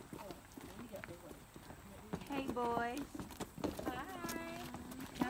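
Horse hooves clip-clop in an irregular walking rhythm on a trail ride, soft and partly buried under lively voices talking and exclaiming close by.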